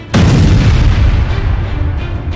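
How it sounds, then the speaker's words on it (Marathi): A single heavy bomb blast, staged as a reconstruction of the 2006 Mumbai train bombing in a crowded evening train, hits suddenly with a deep loud boom that rumbles and slowly decays. "संध्याकाळची वेळ, गर्दीनं गुदमरलेली ट्रेन आणि अचानक झालेला हा स्फोट।"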